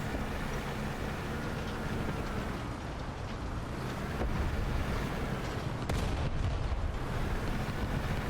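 A KV-2 tank in War Thunder fires its massive cannon, a heavy boom rising from a constant loud, broadband engine-and-battle rumble, with one sharp blast standing out near the end.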